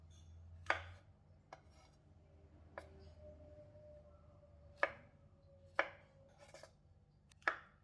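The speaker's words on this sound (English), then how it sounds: "Lastly, cut 330 grams of white button mushroom into quarters." Knife slicing white button mushrooms into quarters on a cutting board, with about six sharp, isolated chops spaced irregularly over a quiet background.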